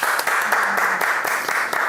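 A small group claps at a Saturday evening family worship service. The clapping is quick and brisk, with a steady, even rhythm, and stays close and fairly loud throughout.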